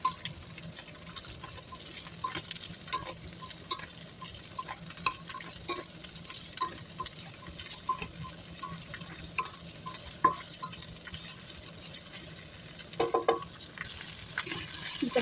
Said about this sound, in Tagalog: Pagka nag-golden yellow ng ating garlic at sibuyas, ilagay natin ang Baguio beans. Gisahin natin.